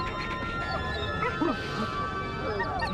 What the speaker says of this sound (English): You're the best hunting dog in the whole world, Smiley.